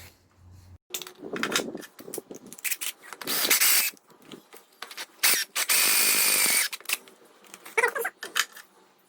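A drill whirs in several bursts into a Honda D15 rocker cover, some long and high-pitched, with squeals and clattering in between.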